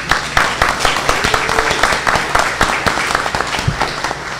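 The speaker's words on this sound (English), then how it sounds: "Our ensembles, give another round of applause." Audience applause for student ensembles at a school district board meeting, steady dense clapping throughout with scattered sharper claps, fairly close and loud, no talk over it.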